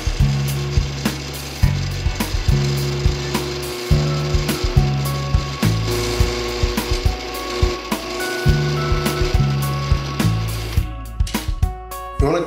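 A drill press fitted with a step bit, running around 1,000 RPM, grinds through a metal washer in repeated short bursts, the cutting noise rising and easing in a steady in-and-out rhythm.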